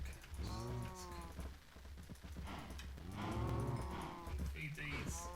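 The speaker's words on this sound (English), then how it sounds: "we've got plenty of cows" Cows moo repeatedly in a farming video game, several drawn-out bovine calls overlapping one another at close range, with background game sounds beneath.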